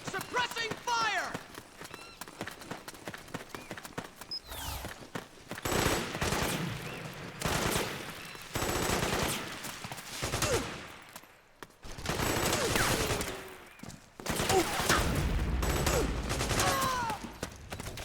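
Soldiers lay down suppressing gunfire in Metal Gear Solid 4, with bursts of automatic rifle fire and chaotic battlefield noise rising and falling over long stretches, while voices shout and talk over the top throughout.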